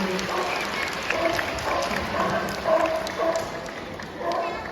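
Crowd applause at a sea lion show in a safari park, a steady wash of clapping from the audience lasting throughout, with voices mixed in underneath.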